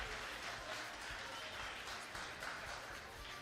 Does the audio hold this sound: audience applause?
yes